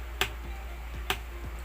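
Two crisp taps of a thumb pick on the wooden body of a guitar, imitating a soft snare, spaced roughly a second apart, close and dry over a low background hum.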